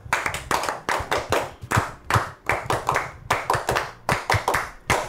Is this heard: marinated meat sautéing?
no